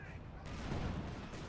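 Grenade detonation in the World War II strategy game Company of Heroes 2, a dense burst of battlefield gunfire and blasts swelling in the middle of the moment, with a commentator's voice layered over the din.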